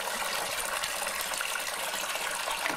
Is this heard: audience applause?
no